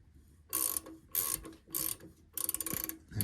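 Wrench tightening bolts while installing a three-point lift on a Cub Cadet, heard as four short bursts of rapid ratcheting clicks, close and fairly loud, separated by brief pauses, with no talk.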